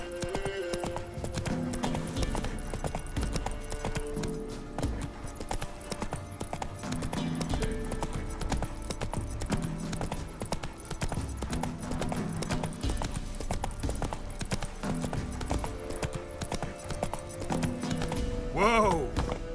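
Roach, the horse in The Witcher 3, galloping at a steady driving rhythm of hoofbeats under game music, closing with a loud neigh.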